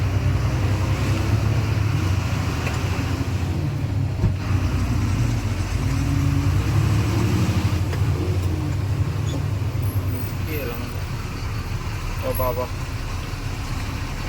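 A lorry runs along a Karnataka road near Ankola, its engine and tyre rumble a steady close drone throughout, with people talking over it inside the cab.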